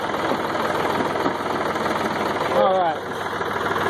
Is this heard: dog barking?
no